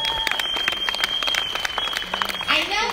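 An audience claps hands at a sharing event, with scattered, uneven clapping running steadily under a constant high tone and some voices toward the end.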